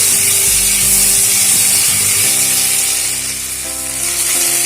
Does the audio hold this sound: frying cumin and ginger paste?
yes